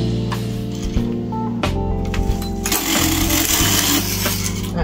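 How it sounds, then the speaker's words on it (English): A knitting machine carriage is pushed across the needle bed for one row of a V-shaped short-row design, a loud rattling, clattering mechanical run that grows harsher partway through. "so I'm going to knit one."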